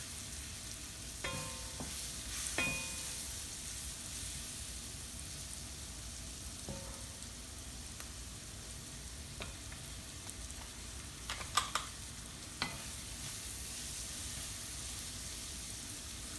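Yellow rice fries in a pan with a soft, continuous sizzle, while a spoon stirs it and now and then clinks and scrapes against the pan.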